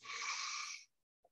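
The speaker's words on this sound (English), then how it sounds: "Just take a big breath into your nose." One long, deep breath drawn in through the nose, close and airy, ending in a brief faint catch.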